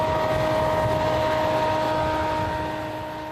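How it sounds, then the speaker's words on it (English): A steady engine drone with a constant mechanical hum of crop harvesting machinery on a farm just west of Winnipeg, slowly fading toward the end. "That's the sound of Gunter Joham taking off his crop at his farm just west of Winnipeg"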